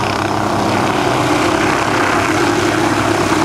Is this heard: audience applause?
no